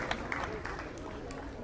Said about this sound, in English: Big round of applause for the Reminiscents.